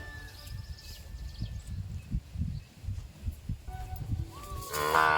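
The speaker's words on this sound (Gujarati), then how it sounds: "આ જો ગાંગડવાનું ચાલુ કર્યું છે બે ભેંસોએ." Two farm buffaloes bellow on a Gujarati dairy farm during a midday break, low drawn-out calls rising near the end over steady outdoor rustling and murmur, moderately near.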